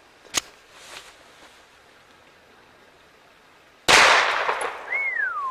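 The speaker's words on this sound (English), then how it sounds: "going to shoot the bottle out of the tree now" A single sharp gunshot cracks out close and loud while shooting at a bottle hanging in a tree, followed by a rushing decay and a faint earlier pop.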